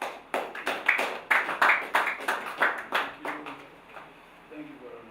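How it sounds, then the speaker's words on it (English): Scattered applause from a small seminar audience welcoming a speaker, a handful of distinct claps in an uneven rhythm that thin out and fade, with faint talk near the end. "A round of applause."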